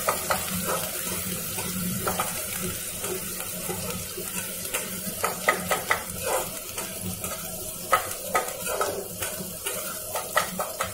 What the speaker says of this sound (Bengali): মাছটাকে অল্প দিয়ে এবার ভালো করে ভেজে নিন।